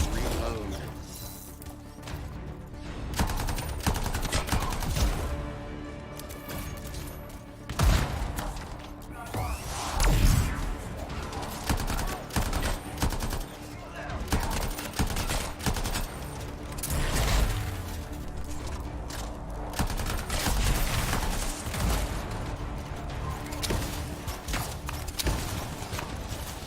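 Weapon fire in the action game Anthem, with repeated heavy mechanical bursts and clanks over a busy layer of game sound and music, loud and irregular, with a voice talking at times.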